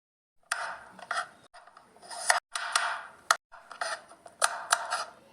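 Carrots are chopped with a knife on a board, a close series of crisp slicing strokes and sharp taps in uneven bursts, separated by brief silences, with no talking.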